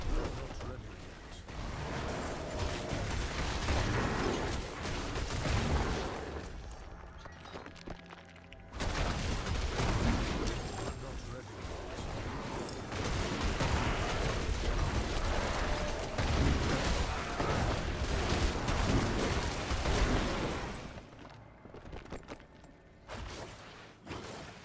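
Repeated booming explosions and rapid gunfire-like bursts from Diablo 4, a Druid build fighting, dense and continuous, with brief lulls and a voice talking over parts.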